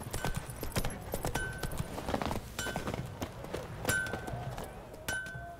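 Roach the horse trots in The Witcher 3, a clear repeated clip-clop of hooves on hard ground with short gaps, close and fairly loud over quiet game ambience.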